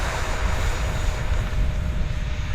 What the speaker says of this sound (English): And then short takeoff, look at this.